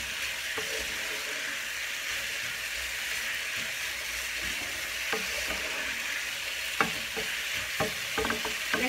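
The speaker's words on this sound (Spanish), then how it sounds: "Lo vamos a revolver muy bien y lo dejamos que se fría un poquito también." Stewed green beans stirred and fried in a pan, a constant hissing sizzle with occasional scraping and clinking of the spoon, growing busier toward the end, close up and without talk.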